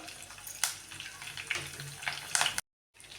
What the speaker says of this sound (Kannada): ನೋಡಿ ಇವಾಗ ಇದು ಸ್ವಲ್ಪ ಎಣ್ಣೆಯಲ್ಲಿ ಫ್ರೈ ಆಗ್ತೈತಿ